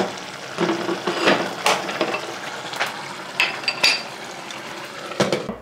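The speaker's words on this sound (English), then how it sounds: "My butter is brown." Butter browning in a pan on a home stove, with soft sizzling under a run of clinking utensil and pan knocks and scraping stirs, no talking.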